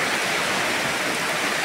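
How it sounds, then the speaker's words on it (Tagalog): Heavy mountain downpour of big raindrops, a dense, loud and steady hiss of rain filling the whole moment with no voices. "dagko kayong tagak sa ulan"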